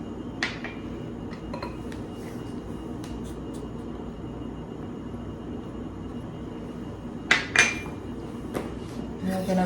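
Flour, baking soda and salt being whisked together in a bowl for soft chocolate chip cookies: a soft steady rustle with a few sharp metallic clinks of the whisk against the bowl, no talking.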